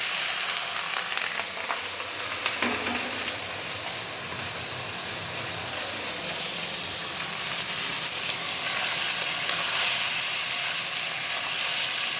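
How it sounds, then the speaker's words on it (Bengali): Fish rubbed with green chili, turmeric and salt fries in oil with a cumin tempering, giving a loud, continuous close hiss of frying that swells slightly toward the end, with no voices. "জিরে ফোড়ন, এবার আমি মাছটা দেব।"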